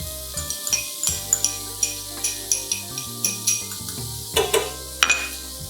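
Shallots for Steak Diane sizzle in a pan over medium heat, with a series of close metallic clinks and scrapes of a utensil against cookware on top of a soft frying hiss.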